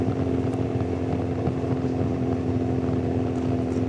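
A motorcycle engine drones steadily through a road bike race, a low continuous hum heard from a following motor, moderately loud with no talk over it.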